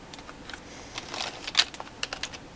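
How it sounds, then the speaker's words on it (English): Keys on a Logitech K60 wireless keyboard clicked one after another, a quiet, irregular run of light plastic taps close to the microphone. "K60 keyboard, as you can tell."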